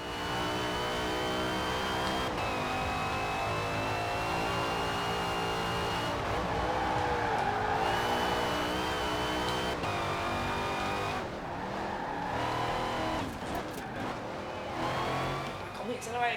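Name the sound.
racing car accelerating in a K74 Rivals racing video game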